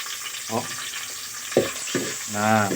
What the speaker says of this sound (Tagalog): Ito yung sibuyas yung inuna niya, sumisis ngayon ng luto, saka bawang sabay pala.